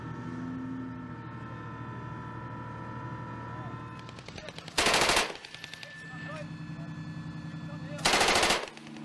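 Bursts of LAV-mounted M240 machine gun fire: two loud, dense rapid-fire bursts of about half a second each, over a steady engine and vehicle drone.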